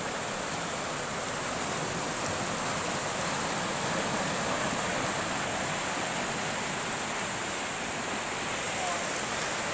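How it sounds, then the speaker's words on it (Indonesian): A flooded river surges past in a steady, loud roar of rushing water that fills the whole stretch without letup, close by where people are out fishing. "sungainya meluap"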